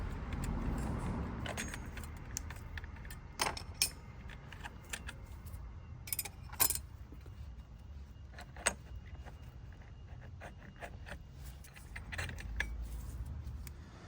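Metal clutch plates are pulled out of a 1998 Honda VFR800 motorcycle's clutch, giving faint, scattered metallic clinks and jangles against a low, quiet background, with no talking.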